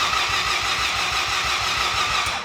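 A Mazda FD RX7 rotary engine cranks steadily with a rapid, even rhythmic chug, loud and close, catching into a rough bubbly run with no talk over it.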